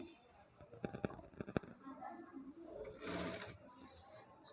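A sewing machine stitches a blouse in a few quick bursts of rapid mechanical clatter, followed by a louder whirring run, heard up close with soft background noise.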